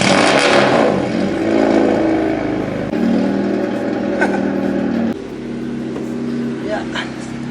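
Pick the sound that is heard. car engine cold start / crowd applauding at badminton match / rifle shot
car engine cold start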